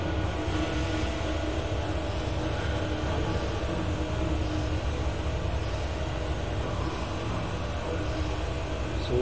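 Steady, dense locomotive rumble from a powerful steam engine on the Welsh Highland Railway in a train simulator game, a continuous low roar with hiss that holds at an even loudness throughout, with no voices.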